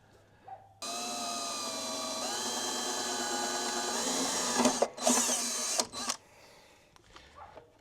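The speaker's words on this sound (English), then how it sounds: "I'll probably hold this up here while I drill these two holes" A cordless drill bores a mounting hole on a boat for green LED rear lights, its motor whining steadily at close range for about five seconds before stopping with brief rattles.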